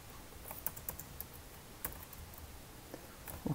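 Computer keyboard typing, quiet and close, with scattered light key clicks at an uneven pace.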